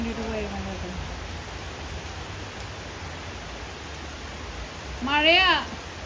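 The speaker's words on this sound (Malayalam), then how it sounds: "മഴയാ." Steady rain falls at a home in Kerala, a soft, even hiss throughout, with a short burst of voice near the end rising over it.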